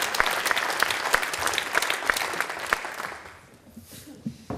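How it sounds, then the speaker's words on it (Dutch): Audience applause at a BNI business networking meeting, full and crisp at first, then thinning and fading out after about three seconds, leaving a quieter room. "applaus."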